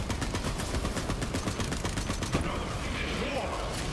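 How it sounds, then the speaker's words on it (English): Rapid automatic rifle fire in the video game Borderlands 3, a fast regular stream of loud shots for about two and a half seconds before it cuts off, leaving game noise and a voice beneath. "The rifle's about to run out of ammo."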